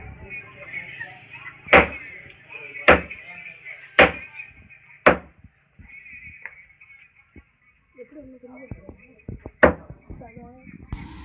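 A butcher's heavy cleaver chops whole chicken on a board in a steady series of loud thuds over meat shop bustle and faint voices, then a final chop after a pause.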